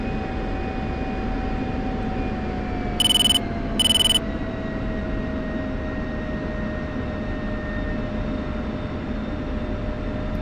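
An F-16 jet in DCS World runs with a steady, loud engine roar and a slowly falling whine throughout, broken by two short electronic beeps near the middle.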